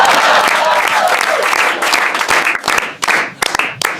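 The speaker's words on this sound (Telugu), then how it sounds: "మనోడికి క్లాప్స్." A live audience claps for a comedian on a Telugu comedy show, with loud, dense applause that gradually thins into a few scattered, sharper claps.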